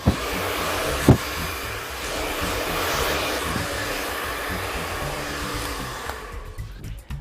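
A hair dryer roars steadily and close up while blow-drying hair for a voluminous style, with a couple of brief knocks along the way. The airflow cuts off shortly before the end.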